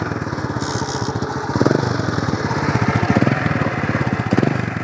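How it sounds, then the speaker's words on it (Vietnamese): Honda Dream motorcycle idling just after a kick start, its aftermarket exhaust putting out a fast, steady chugging putter with small throttle swells, close and loud with no talk. "Đây là tiếng bô móc của nó nha."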